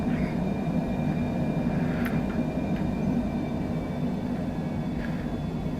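Simulated Cessna Citation Longitude jet engines climb after takeoff in Microsoft Flight Simulator, a loud, steady droning roar with a faint whine above it and a few brief clicks.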